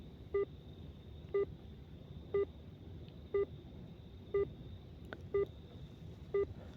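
A repeating electronic phone call ringing tone sounds about once per second, seven short even beeps over a faint background hiss.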